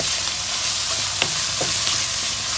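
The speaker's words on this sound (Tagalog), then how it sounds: "Halu-haluin." Ground pork sizzles and fries in a pan while a utensil stirs and scrapes through it, a steady close sizzle with a few brief clacks and scrapes, no talking.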